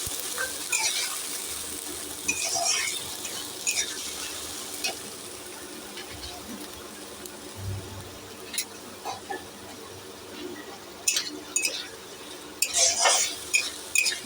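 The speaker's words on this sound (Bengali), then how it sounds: "দিয়ে ভালো করে মশলাটা কষতে দেবো যেন রসুনের কাঁচা গন্ধটা না লাগে।" Spice masala with garlic cooks in a pan with a little water for a coriander chicken kofta curry, with a spoon stirring and scraping in clinking strokes over a soft, steady sizzle.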